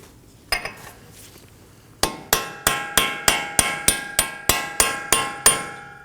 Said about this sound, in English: We're going to strike the shaft of the axle again with our punch and hammer